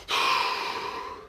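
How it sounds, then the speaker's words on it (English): One deep breath drawn in sharply through the nose and mouth, close and clear, a breathy inhale that fades over about a second with nothing else around it. "take a deep, deep breath"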